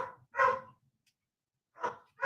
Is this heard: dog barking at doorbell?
yes